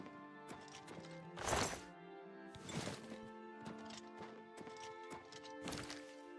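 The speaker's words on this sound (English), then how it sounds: "My horse is just gonna be running all over the gate." Horse hooves clip-clop in the Oblivion video game, a soft irregular run of hoofbeats mixed with louder whooshing thumps and a low sustained musical drone in the background.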